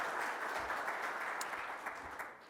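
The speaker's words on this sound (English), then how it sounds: "give him a big round of applause, Ken, as our keynote speaker for the morning" Sustained audience applause welcoming a keynote speaker at a Clemson symposium, an even wash of many hands clapping at moderate distance that tapers slightly toward the end.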